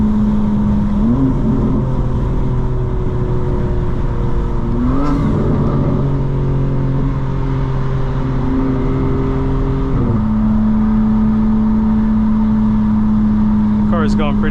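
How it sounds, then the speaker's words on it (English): A 2025 BMW M4 Competition xDrive engine drones steadily and changes pitch as it shifts gears, with a steady roar of speed throughout. "The car is going pretty fast, I'm not gonna lie."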